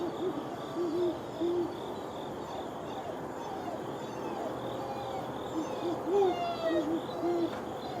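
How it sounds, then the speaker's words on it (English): Soft, low owl hoots in short paired calls, repeated several times against a steady chorus of night insects, with a faint voice at moments. "What kind of owl is that?"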